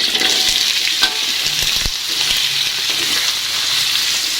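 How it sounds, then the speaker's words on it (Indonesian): Potatoes frying in heated oil in a pan, a steady close sizzle and crackle with small pops throughout, no talking. "Langsung aja kita goreng kentangnya."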